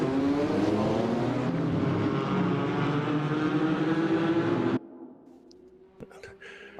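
Pack of GT4 race cars launching off the start at Monza in a sim racing game, a loud rising roar of engines that cuts off abruptly, leaving faint engine noise and a few clicks.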